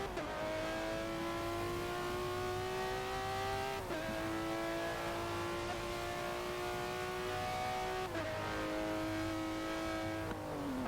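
Green McLaren hypercar engine at wet Silverstone in a racing video game, holding a loud, steady high-revving drone with two sharp upshifts that briefly drop the pitch before it climbs again, heard alone without talk.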